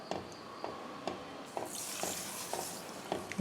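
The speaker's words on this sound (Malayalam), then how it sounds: "ഇളക്കിക്കൊണ്ട് മിക്സ് ചെയ്തുകൊണ്ട് ഒഴിച്ചു കൊടുക്കുക." A strawberry pudding mixture of cornflour and sugar is stirred in a pan, heard as a soft, quiet scrape repeating at a steady rhythm of about two strokes a second.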